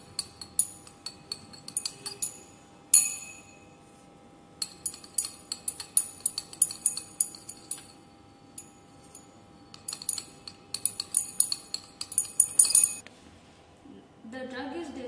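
Diclofenac sodium is stirred into methanol in laboratory glassware, giving repeated light clinks and ticks of a stirrer against glass in clustered bursts, fairly quiet, with brief talk near the end.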